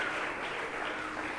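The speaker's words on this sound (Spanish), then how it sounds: "Denle un aplauso al Rey de Reyes." A church congregation claps for the King of Kings during a sermon, a faint, steady wash of applause heard from a distance with no speech over it.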